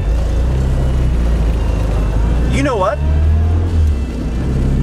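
A 1993 classic Mini Cooper with fuel injection and a manual gearbox drives along in first gear, its engine humming low and steady and close by, while someone talks over it.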